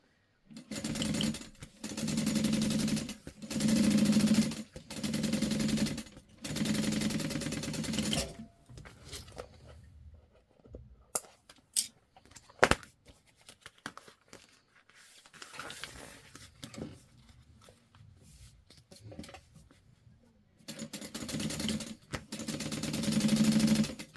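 Sewing machine batch-sewing pieces of a clear vinyl beauty bag, running in steady close bursts of rapid whirring stitches, pausing for quieter snipping and handling sounds in between, then starting up again.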